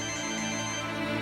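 A phone ringtone sounds for an incoming call late at night, a steady tonal melody playing continuously and clearly throughout, with no talking over it.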